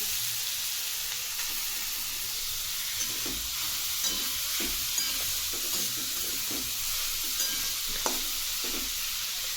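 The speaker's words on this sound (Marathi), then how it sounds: "आता आपण या तुपामध्ये किसलेला गाजर टाकून घेऊ" Grated carrot frying in ghee for carrot halwa, a steady close hiss of sizzling with repeated soft scraping stirs spaced through it.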